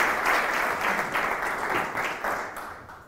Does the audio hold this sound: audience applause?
yes